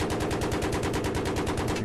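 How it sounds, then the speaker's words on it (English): Cannon fire from a helicopter in the video game Battlefield 3: a loud, continuous rapid-fire burst with evenly spaced rattling shots that runs unbroken throughout. "How about a little cannon fire for your afternoon, folks?"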